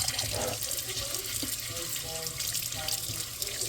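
Green lentils washed under a running kitchen tap, a steady broadband splash of water into a sink with small sloshing and rinsing movements throughout, close and continuous, no talking.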